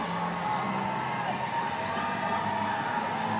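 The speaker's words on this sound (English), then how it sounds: "We see the crowd is going wild in the stands here." Crowd cheering and roaring in the stands at Memorial Stadium in Seattle Center during a Cascades Cup soccer match, a continuous broad wash of voices with whoops rising over it, heard from a distance.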